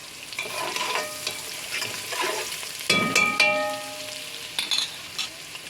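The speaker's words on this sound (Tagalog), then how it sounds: "Yung manok na hinimay, igigisa sa" Shredded chicken is sautéed with ginger, garlic and onion in a pan for arroz caldo, a continuous close sizzle with stirring scrapes and clattering utensil knocks against the pan.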